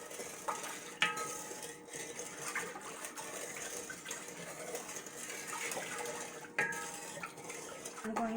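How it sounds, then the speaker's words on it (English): A spoon stirs a homemade mango wine mixture in a pot, clinking and scraping against the sides with sloshing liquid in a steady, moderately close, irregular rhythm. "I'm going to go ahead and stir that up real good."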